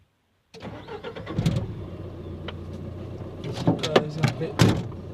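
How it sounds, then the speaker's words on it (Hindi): A car engine cranks and catches, then settles into a running rumble, close by, with a few sharp clunks and bursts scattered through it; the vehicle sits parked on muddy ground. "गाड़ी स्टार्ट हो गई है"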